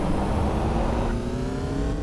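A car engine in the video game Payback 2 revs loud and close, a sustained rising and whirring motor tone over about two seconds, alone without speech.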